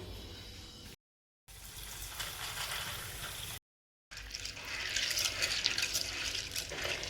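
Chickpeas being washed under running tap water in a home kitchen make a continuous splashing rush, interrupted by two brief silent gaps, growing louder and brighter toward the end, with no talk.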